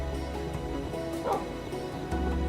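A dog in a video game barks a few times, close and fairly loud, alongside a low background music bed and no talk.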